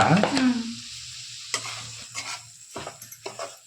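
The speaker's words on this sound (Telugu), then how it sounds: "దీంట్లోనే మనం ఇదే నెయ్యిలోనే రవ్వ అయితే వేయించుకోవాలా అర్ధ కేజీ రవ్వ" Half a kilo of semolina roasts in ghee for rava laddu. A soft sizzle runs under a spoon that scrapes and stirs in the pan at intervals, close by, with no talking.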